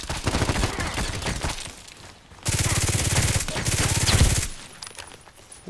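Rapid automatic gunfire in the online shooter Contract Wars comes in two dense bursts of rattling shots, with a quieter gap between them and after the second.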